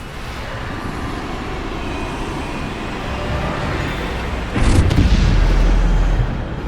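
A Bombarda spell explodes in the Hogwarts Legacy video game, a deep booming blast that hits suddenly over a rumbling background and then lingers as a heavy low roar.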